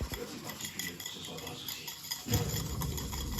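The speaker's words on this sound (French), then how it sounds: "faut que je fouette les jaunes avec le sucre" Egg yolks being whisked with sugar in a bowl, a faint, steady scraping and clinking of the whisk against the bowl that grows somewhat louder and denser toward the end.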